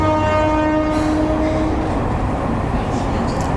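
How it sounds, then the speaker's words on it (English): A train passes nearby in Morocco, its horn sounding as a long steady blast over the first half, with continuous rumbling rail noise filling the rest of the clip. "Oh, it's the train."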